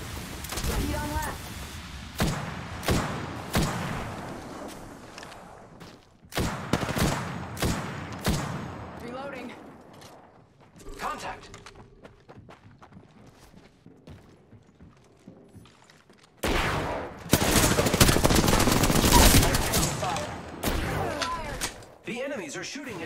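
Enemy gunfire in Apex Legends: scattered shots and bursts land close, with a sustained, loud barrage near the end. Game sounds and talking are mixed in throughout.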